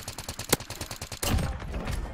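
Sniper fire in a Call of Duty style shooter, one loud sharp crack standing out from a fast rhythmic run of fainter gunfire, followed by a heavier burst of shots.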